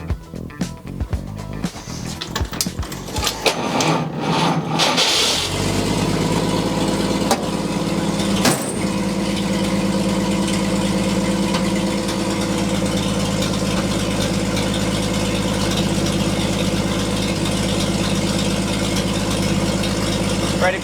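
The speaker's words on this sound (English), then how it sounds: "We're gonna start the car and we're just gonna get the decibels of it just idling." A car engine cranks and catches after a few seconds of clatter, then settles into a steady, loud, low rumbling idle that holds unchanged to the end, with a brief knock partway through.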